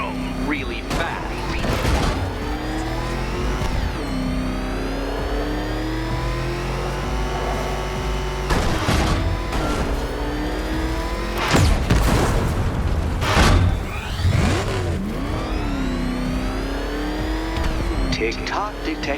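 The Batmobile in Batman: Arkham Knight roars as its engine revs loudly, rising and falling in pitch, with booming impacts and tire squeals, while a voice speaks over it throughout.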